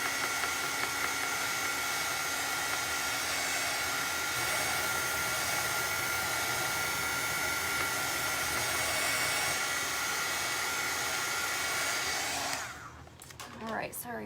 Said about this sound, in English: I'm gonna dry that real quick.